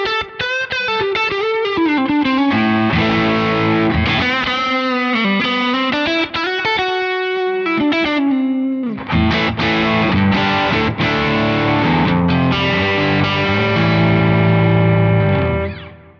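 Electric guitar played through a Kemper profile with two pedal settings stacked, blue and green 1 combined, giving a loud, distorted and heavily effected tone that sustains continuously, with a brief dip near eight seconds before the playing resumes.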